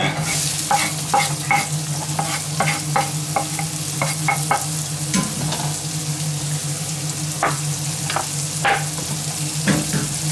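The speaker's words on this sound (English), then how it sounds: "Now, let's just put the onions in there." Onions frying in a pan for a stew keep up a steady, close sizzle throughout, punctuated by frequent clacks of a utensil stirring against the pan, with no talk.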